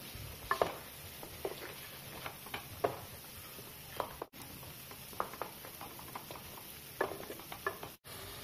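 Chicken frying with whisked sour yogurt for Hyderabadi chicken, a soft low sizzle under repeated scraping and stirring clinks of a spoon against the pan, faint and close.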